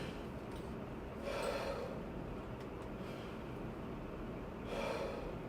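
Someone inhales audibly through the nose twice during a chest-breathing demonstration for saxophone practice, each breath a short airy rush separated by a quiet pause with faint background noise.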